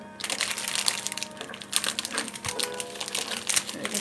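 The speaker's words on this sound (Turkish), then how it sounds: "Şu paketimizi de açalım." Plastic packaging around pastry dough for börek is torn open and handled, giving a few seconds of steady, close crinkling and rustling with sharp crackles throughout.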